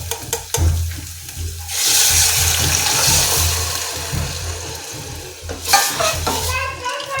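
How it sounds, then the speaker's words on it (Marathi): Frying in a pan ahead of adding spinach, a loud steady hiss swelling in the middle with a few stirring clatters at the start and near the end, close by and without speech. "हे चांगलं भाजून घ्यायचं, आणि त्याच्यानंतर मग भाजी टाकून द्यायची"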